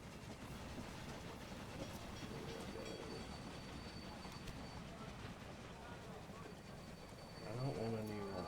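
Train running in the video game Railroad Empire, a steady rumbling rolling sound that holds through the clip and swells near the end, with someone talking over it.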